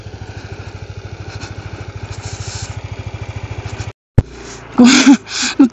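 A motorcycle engine chugs in a fast, even pulse on a rough mountain road toward Mount Olis, then cuts out abruptly before louder bursts of noise and a bit of voice follow.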